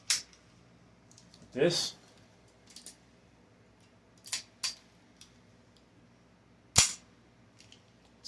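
A pistol slide racked forward, metal snapping against a plastic frame, gives several sharp, close clicks and clacks spaced a few seconds apart, with quiet handling noise between and a brief spoken word.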